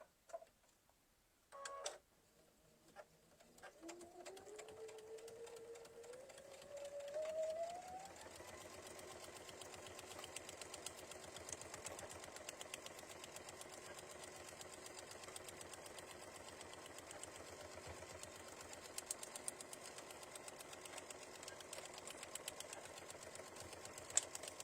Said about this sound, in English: And now I'm going to sew all the way across.